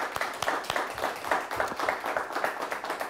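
Studio audience at a high school quiz show gives steady, moderate applause for the team's alternates, many hands clapping evenly without any voices.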